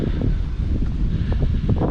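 Steady wind buffeting a microphone outdoors, a constant low rumble and rush with no voices.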